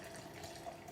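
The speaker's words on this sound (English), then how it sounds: "And we're gonna add the bubbly, about 1/2 can." Sparkling drink poured from a can into a glass while making a drink, a steady fizzy liquid stream and bubbling hiss running continuously at moderate level, close by, with no talking.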